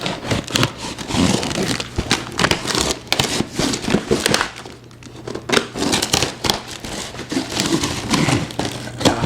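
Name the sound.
cutting open cardboard box with pocket knife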